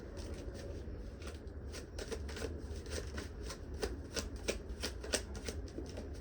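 A deck of tarot cards shuffled up close, with a rapid run of crisp riffling clicks at an even rhythm and no voices.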